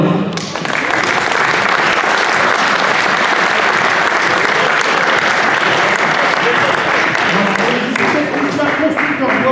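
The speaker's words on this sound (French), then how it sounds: "Vous pouvez les applaudir." Loud, sustained applause from a large audience at a 2015 diploma ceremony fills the whole stretch, steady and dense with many hands clapping at once.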